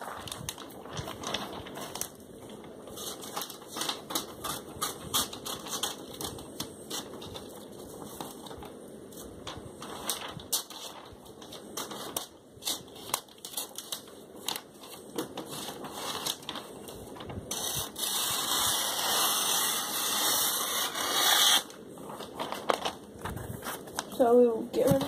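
Wrapping paper rustles and crinkles in rapid bursts while a present is wrapped, quiet and close, with a person talking over it.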